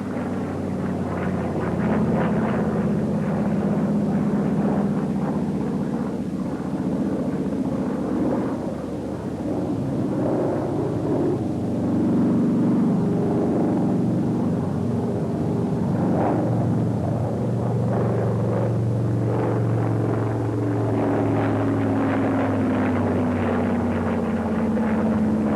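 An SB2A-4 Buccaneer propeller aircraft performs a wing-over starting at 173 knots, its engine a steady, loud, low droning roar with shifting pitch as the maneuver unfolds, continuous throughout.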